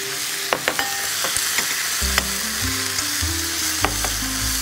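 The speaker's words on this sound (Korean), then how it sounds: "요때 미리 준비해놓은 채소를 같이 양파를. 넣어주는 거예요." Onion and green pepper fry in a pan for a Philadelphia cheesesteak sandwich, giving a loud continuous sizzle with sharp crackles and stirring clicks close up, and no speech.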